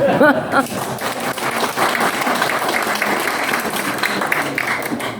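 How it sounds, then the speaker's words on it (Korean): A seated audience at a gathering with former party leader Hwang Kyo-ahn gives sustained, loud applause mixed with crowd murmur, with a brief voice near the start of the steady clapping. "박수를 안 치시네"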